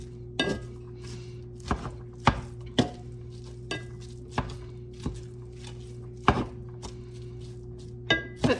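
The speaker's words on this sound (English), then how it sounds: "I might have chopped too much onion." Onion chopped on a board with a knife: about a dozen sharp, separate chops at an uneven, unhurried pace, close and clear over a steady low hum, with no talking.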